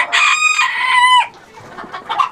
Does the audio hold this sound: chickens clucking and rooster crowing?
yes